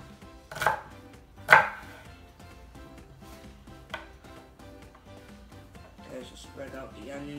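A knife chops through an onion on a cutting board in a home kitchen, giving two sharp, close cuts early on and a lighter one later, with quieter kitchen handling sounds between them.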